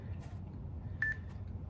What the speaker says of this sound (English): I'm gonna start my timer